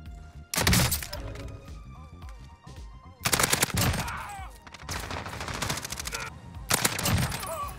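SCAR rifle fire in the video game Warzone, loud bursts of automatic gunfire in several separated volleys, close and punchy with impacts and a shatter mixed in, a voice briefly audible between shots.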